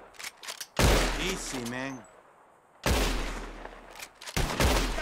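Gunshots in Red Dead Redemption 2 during a bottle-shooting contest: several loud, sharp blasts in separate bursts, with a voice speaking in the gaps between them.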